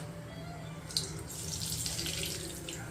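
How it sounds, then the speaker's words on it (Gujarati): Mustard seeds dropped into hot oil for tempering set off a sudden soft sizzling hiss about a third of the way in. The hiss continues faintly and steadily to the end with no speech. "તેલ ગરમ થઈ ગયું છે. એમાં રાઈ નાખીશું."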